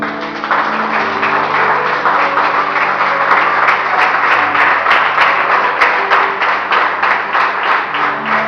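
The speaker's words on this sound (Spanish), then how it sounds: "Dale un aplauso a Cristo." A church congregation applauds during a sermon. Dense, even clapping goes on steadily for the whole stretch, with a sustained tonal hum underneath, probably music or an organ.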